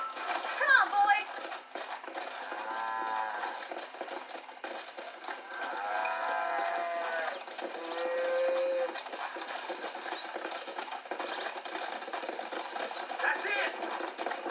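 Cattle moo in long, drawn-out calls over a steady rumble during a herding scene in Red Dead Redemption, with several lowing voices spread across the scene and a person speaking at times.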